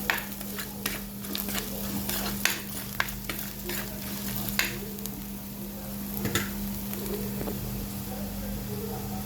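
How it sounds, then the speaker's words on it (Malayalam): Ground coriander, chili powder, turmeric and a little garam masala being sautéed in a pan for a Kerala-style prawn roast, with a steady sizzle and scattered stirring scrapes and taps close by. "മല്ലിപ്പൊടി, മുളക് പൊടി, മഞ്ഞൾപ്പൊടി, കുറച്ച് ഗരം മസാല ചെറുതായിട്ട് ഇങ്ങനെ വഴറ്റിയാണ് എടുത്തേക്കാം."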